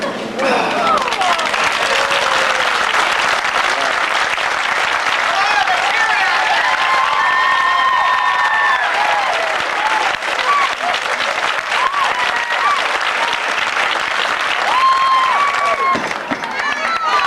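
A street-show audience in San Francisco applauds steadily and loudly for the whole stretch, clapping thick and continuous with scattered cheers and voices in the crowd.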